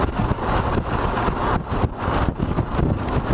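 Loud, steady wind roar rushes past an open motorcycle helmet visor at 90 km/h behind a small windshield, with gusty buffeting pulses and a low engine drone underneath.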